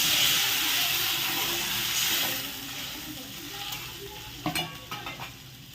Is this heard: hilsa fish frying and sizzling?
yes